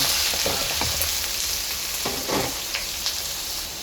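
Chicken liver and gizzard fry with garlic in a hot pan, giving a steady close sizzle broken by a few brief stirring scrapes and crackles, with no talking.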